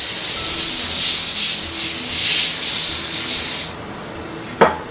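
A loud continuous hiss of cooking spray onto a baking pan for about four seconds, with slight pulses, then it stops and a single sharp click follows.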